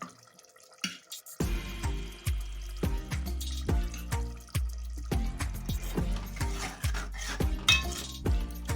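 Eggs dropped into a simmering onion dry fish curry in a pot: a series of soft plops and wet splashes with clinks of utensils against the pan, close by and irregular, without talk.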